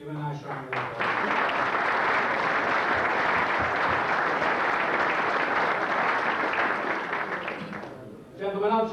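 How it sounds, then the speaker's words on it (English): Sustained audience applause at a 1998 Wrexham AFC grand gala dinner honouring past and present players, a dense, loud wash of clapping lasting several seconds before fading, with a voice briefly at the start and end. "Give a nice round of applause."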